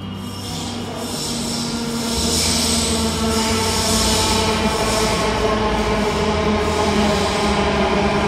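A nearly empty Delhi Metro train rumbles and hums loudly, its motor whine and wheel noise building steadily as it rolls along the track.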